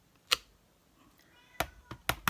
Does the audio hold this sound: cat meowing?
yes